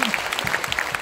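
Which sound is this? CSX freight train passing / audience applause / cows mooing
audience applause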